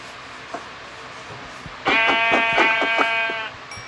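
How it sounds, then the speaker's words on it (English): A Minecraft sheep gives a single loud, wavering bleat partway through, following a short stretch of quiet game sounds. "I have found a sheep."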